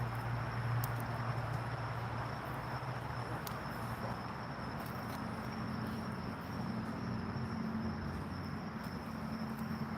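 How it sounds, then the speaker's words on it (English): Crickets chirp at night in Hawaii in a constant high, shimmering trill throughout, with a low steady hum underneath and no talking. "I hear the crickets"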